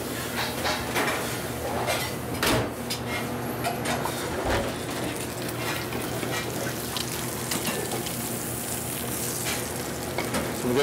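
A small fish fillet fries in a pan with a continuous crackling sizzle, punctuated by light scrapes and taps of a utensil against the pan, close and fairly loud with no talking.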